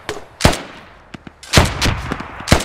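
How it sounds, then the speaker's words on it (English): Gunfire in the tactical shooter game Squad during a close superFOB defense: several sharp, loud shots in irregular bursts, some crisp and near, others duller, with no talking. "Oh, I'm getting shot at."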